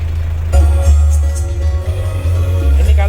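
A Kebo F50 Hardtop jeep engine idles with a deep, steady low throb, a slight rise in level as it runs on, close and loud.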